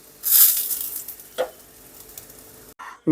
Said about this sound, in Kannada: ಘಮಘಮಿಸುವ ಒಗ್ಗರಣೆಯನ್ನು ಕೊಟ್ಟಾಯಿತು